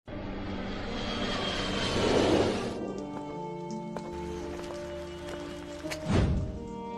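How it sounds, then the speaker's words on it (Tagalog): An airplane engine roars loudly and close, swelling to a peak before settling into a steady drone, with a dull thump near the end. "May sasakyan akong eroplano."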